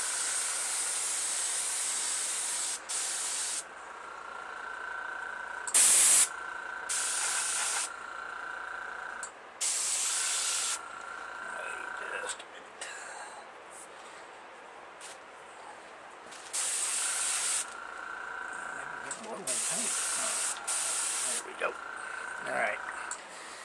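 A Testors Aztek airbrush spraying a coat of acrylic paint onto a Super Stock model car body, in repeated short hissing bursts separated by pauses, with someone talking between and over them.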